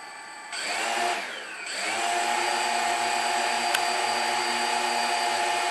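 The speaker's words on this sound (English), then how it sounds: "you can see when I blip the throttle" Quadcopter with Tiger motors spooling up as the throttle is blipped, a loud steady high-pitched electric whine and buzz that rises briefly, dips, then holds at a strong sustained drone.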